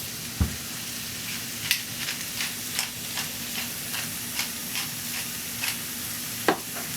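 Onions and peppers sizzle steadily in a cast iron skillet for vegan wheat-meat and chicken Philly filling, with a constant close frying hiss broken by sharp clinks and scrapes of a utensil stirring at irregular intervals.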